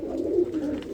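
A pigeon coos steadily and close by in a breeding loft, one brief low call with no talking.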